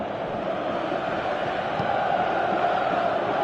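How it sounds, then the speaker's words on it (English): Simulated stadium crowd in a PS4 football video game, a continuous dense murmur and roar at moderate level with no clear peaks, steady throughout. "you can feel and hear how the crowd are reacting to all of this."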